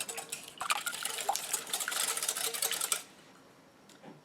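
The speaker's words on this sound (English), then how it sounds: "I'll give this a little mix." Cupcake batter with vanilla and almond extract being mixed in a bowl, a close, busy clatter of utensil scraping and stirring for about three seconds, then tapering off to quiet with a faint final tap.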